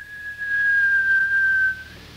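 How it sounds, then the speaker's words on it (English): A single sustained shrill whistle, one high steady tone held for over a second, loud and close, fading out at the end. "He pushed it open and gave a shrill whistle."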